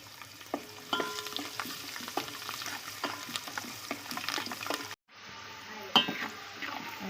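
Whole garlic cloves fry in hot oil with asafoetida and turmeric for a Gujarati vaseti greens dish, giving a close, steady sizzle with stirring scrapes and light clinks of a utensil, then a brief drop and a sharper clink near the end.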